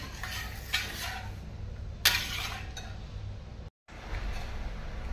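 A spoon stirs cashew barfi mixture with milk powder in a pan, giving soft scraping and a few sharp metallic clinks against the pan, close and alone, with a brief silent gap.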